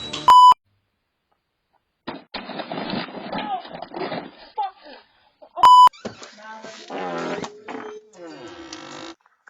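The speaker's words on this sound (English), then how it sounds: "Our house alarm is going off." A house alarm gives two loud, sharp electronic beeps, one at the start and another near the middle, with hurried, agitated speech filling the gaps between them.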